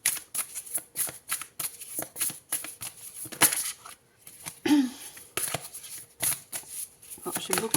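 Tarot cards are shuffled by hand in a series of close, rapid riffling and slapping bursts that repeat steadily with brief pauses between them.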